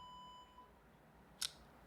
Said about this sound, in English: What was that beep?